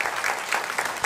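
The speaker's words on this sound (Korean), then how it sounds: "우리 박수로 환영해 주시면 감사하겠습니다" A church congregation applauds to welcome missionaries during a Sunday service, a brief burst of moderate, steady clapping from many hands in a large room.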